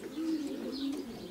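Pigeons in a racing pigeon loft give a soft, low cooing call, rising and falling twice over about a second, fairly quiet and close with no talk.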